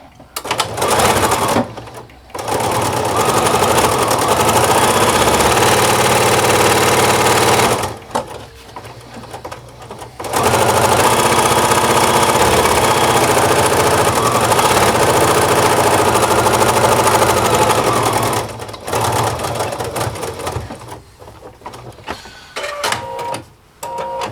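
Sewing machine stitching napkins with a flat felling foot runs in two long, steady mechanical bursts separated by short pauses, with a few brief starts and stops toward the end; loud and close, with no talking.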